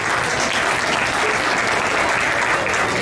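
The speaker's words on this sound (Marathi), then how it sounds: "त्यांच्यासाठी एक वेळेस टाळ्या वाजवा प्लीज" Sustained applause fills a Marathi community Gudi Padwa New Year celebration in Milton, steady dense clapping from a large audience without a break and with no voices over it.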